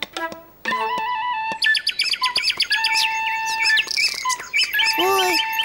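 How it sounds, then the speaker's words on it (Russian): Cartoon birds squabbling over crumbs, a loud, busy flurry of shrill chirps, tweets and squawks overlapping one another, with a sudden burst of harsher squawking near the end. "Ой, птички стали ссориться."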